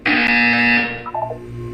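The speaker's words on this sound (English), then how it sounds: "You will hear a buzzer" A loud electronic buzzer from the game Portal 2 blares steadily for about a second with a harsh, flat tone, then cuts off into quieter game ambience.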